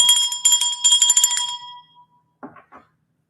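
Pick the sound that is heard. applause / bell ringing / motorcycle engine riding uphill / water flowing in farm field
bell ringing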